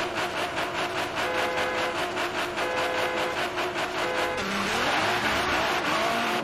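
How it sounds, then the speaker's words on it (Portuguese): A naturally aspirated car engine in the racing video game Forza Horizon 3, revving hard with rapid rhythmic gear pulses, then a rising roar and tire squeal toward the end, loud and close. "Olha o barulhinho do aspirado, ó."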